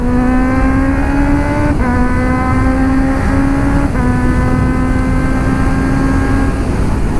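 Ride-on Malico 360 ViewDeck vehicle accelerating hard with quick-shift gear changes, a loud, close, steady engine drone that rises in pitch, drops briefly at each of two quick shifts, then climbs again with no talk.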